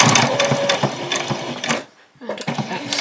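Domestic sewing machine running a back stitch on a cotton apron, a close, fast mechanical whirr in short bursts that stops briefly and then starts again, with no talking.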